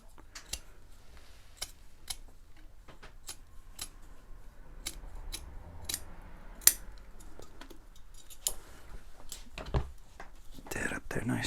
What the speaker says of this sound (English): now you got to cut it out when you're going around these legs. Little snip on either end.